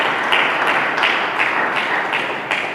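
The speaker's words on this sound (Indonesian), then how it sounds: "Mari kita berikan tepuk tangan bagi Tuhan." A church congregation applauds together, steady dense clapping that fills the room without break, with a few louder swells rising through the crowd.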